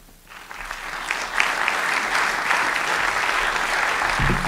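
An audience applauds two debaters at the close of a debate on whether Jesus rose from the dead: dense, sustained clapping from a large crowd that swells quickly and holds steady.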